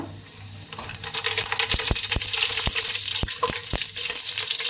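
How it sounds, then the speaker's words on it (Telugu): Whole spices (shahi jeera) crackle and sizzle in a quarter kilo of hot oil for Kadapa-style mutton biryani. The steady frying hiss carries sharp pops and clinks throughout, close up, with no talking. "ఆయిల్ బాగా హీట్ ఎక్కిందండి. ఇప్పుడు దీంట్లో ముందుగా షాజీరా,"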